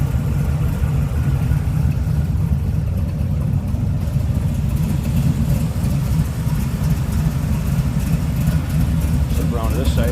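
A 1973 Chevrolet Corvette with headers runs smoothly at a steady idle, a continuous low engine rumble held close throughout, with a person talking over it.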